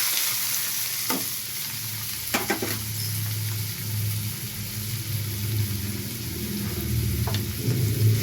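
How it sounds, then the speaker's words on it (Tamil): Onion and green chili sauté with popped mustard seeds for fish puttu, a loud close sizzle under a low humming drone, broken by a few sharp spatula scrapes, with no speech. "வெங்காயம் பச்சை மிளகாய் நல்லா வதக்கிக்கோங்க"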